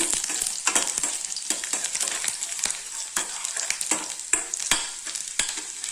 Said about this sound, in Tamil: பூண்டு போட்டுக்கலாங்க. இதை நல்லா வதக்கிக்கலாம்.